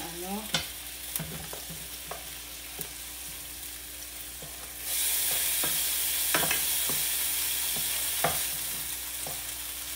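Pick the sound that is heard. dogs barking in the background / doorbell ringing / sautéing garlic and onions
sautéing garlic and onions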